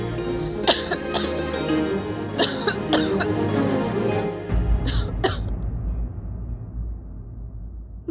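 A woman with a cold coughs several times in short bursts over a backdrop of dramatic music, and the music then drops to a quieter, low tone.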